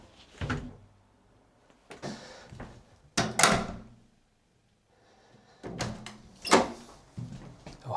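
Knocking on a customer's front door, then the door opening, heard as separate bursts of knocks and door movement with quiet gaps between them, fairly close and with no talking.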